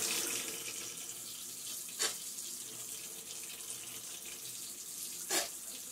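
Water sloshes and trickles as a syringe is rinsed out after giving a Prohibit dewormer, with soft steady running-water noise and a couple of brief splashy bursts, close and fairly quiet, no voices.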